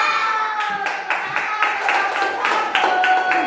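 Classroom clapping chant with a steady rhythmic beat of about a dozen crisp group claps in time, loud and close, carried over children's sung chanting voices.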